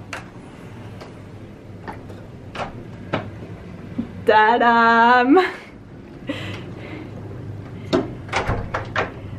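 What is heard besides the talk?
hotel room doors opening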